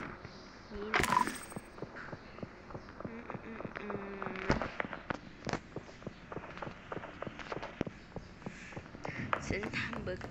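Bomb blasts in the video game Suspects: Mystery Mansion come as two sharp bursts, followed by a long run of quieter crackling pops and taps. Talk is heard over the sounds.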